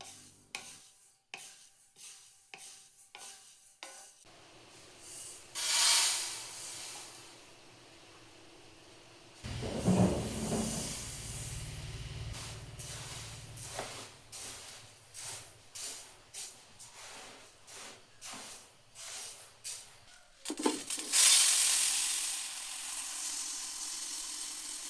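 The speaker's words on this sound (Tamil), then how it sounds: "கொத்தமல்லி வறுக்க ஆரம்பிச்சிட்டேன்" Coriander seeds dry-roast in a pan, stirred with a utensil, making a rattling, scraping rustle in uneven bursts with sharp clicks and occasional louder sweeps, plus a few quiet gaps between spells of stirring; no voice is heard.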